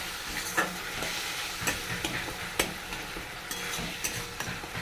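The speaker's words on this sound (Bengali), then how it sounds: "এবার চলো কষিয়ে নিই ভালো করে।" Whole garam masala, spices and tomato are stir-fried in a pan, producing a constant close sizzle with periodic scraping strokes and light spoon knocks about once a second. No one speaks.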